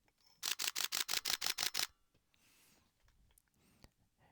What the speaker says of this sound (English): The shutter noise can be distracting to the audience, especially when it's a quiet performance.